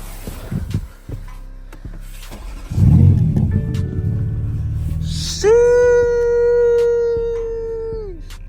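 A BMW M3 Competition cranks and fires up nearby: a low starter churn and rumbling catch, then a sharp rising engine flare that settles into a steady high-pitched idle drone before dropping off, with a few scattered knocks beforehand.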